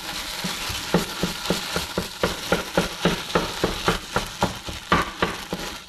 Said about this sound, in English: And over here I have our chorizo, which is, I can hear it getting brown.